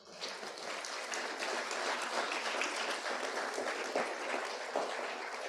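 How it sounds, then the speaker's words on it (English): Sustained audience applause at a keynote, dense steady clapping from a crowd filling the room for the full duration, fairly even in loudness with no talk over it. "So how about a round of applause for that?"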